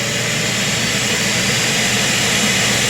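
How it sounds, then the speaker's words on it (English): An iRobot Roomba self-emptying base runs its vacuum cycle, giving off a loud, steady motor roar and airflow whoosh that continues unbroken throughout. "I went ahead and I hit the vacuum cycle."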